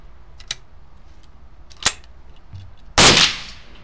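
A Bergeron 12-gauge shotgun is fired at a shooting range: two sharp distant cracks followed by a much louder close blast that rings out briefly, with quiet between shots.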